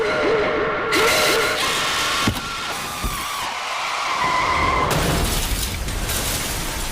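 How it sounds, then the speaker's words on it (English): A car skids and crashes in a horror film scene on a road, with a sustained loud tire screech and engine roar broken by sharp impacts and crunching metal, then a rising rush of noise as the wreck settles. "resulting in a brutal crash"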